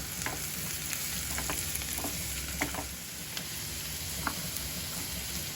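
Chopped green chillies sizzling in a pan of flattened-rice pulao, a steady close fry broken by occasional light knocks and scrapes as they are stirred.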